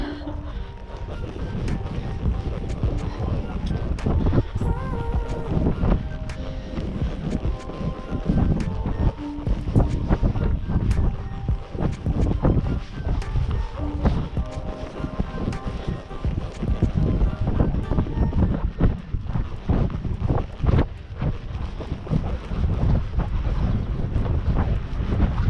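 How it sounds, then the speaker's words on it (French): Strong gusty wind buffeting the microphone outdoors during a walk with a dog, loud continuous roar and rumble with fluctuating gusts, a few faint voices under it. "Mais c'est quoi ce vent?"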